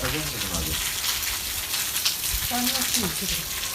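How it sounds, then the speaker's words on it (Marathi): Light rain falls outdoors during a thunderstorm with lightning, making a steady, even hiss of drops close by, with voices briefly heard under it. "पाऊस हलकासा विजा पण चमकत्यात"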